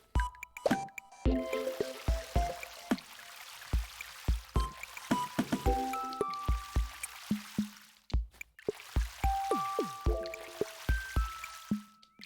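Water from a broken watering can drips and splashes in an irregular, close run of small liquid plops and squishy drops, steady through the whole stretch with a few brief gaps.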